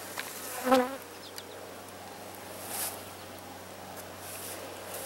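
Honey bees on the frames of a thriving hive, buzzing faintly and steadily, with one louder bee passing close early on and a soft swell later.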